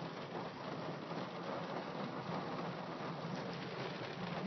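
Oklahoma thunderstorm with heavy rain and nickel-sized hail, a dense, steady hiss of pounding precipitation throughout, close and unbroken, no voices.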